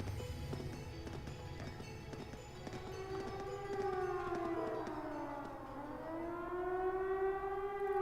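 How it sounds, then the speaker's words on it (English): A civil defense air raid siren in the video game The Legend of Heroes: Trails of Cold Steel wails steadily, its pitch sweeping down and then rising again over a constant background drone. "Is that an air raid siren?"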